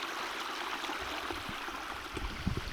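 Clear water from a hillside spring flows with a steady, soft, gurgling rush, faint and continuous with a few small splashes near the end.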